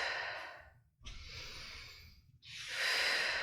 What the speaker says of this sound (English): exhale through pursed lips.